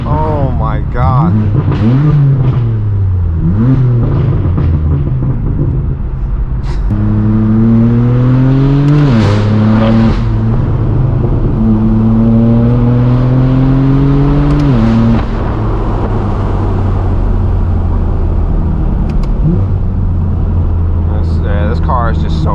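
A straight-piped BMW M4 F82 revs and accelerates hard through several gears. Each pull climbs in pitch and then drops at the shift, loud and close, with a raspy exhaust note and a few brief voices near the start and end.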